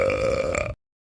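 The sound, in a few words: bear burping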